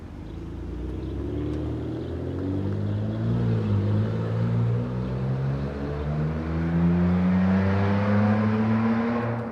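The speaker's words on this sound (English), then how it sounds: "Someone's vehicle is on the loud side" A loud car engine drones past nearby on a street in Toronto's West End, its low roar rising and shifting in pitch over several seconds, no talking.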